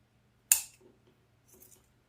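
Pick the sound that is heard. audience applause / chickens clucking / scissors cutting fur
scissors cutting fur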